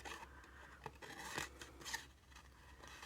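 Scissors rough-cutting through paper, a crisp snipping and rasping at close range, repeated in a few quick strokes with short pauses between them and no talk.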